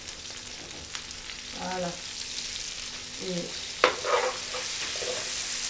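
Lamb pieces sizzling and frying in a pot for Réunion-style rougail saucisses, a constant bright hiss with occasional stirring scrapes while someone speaks briefly nearby.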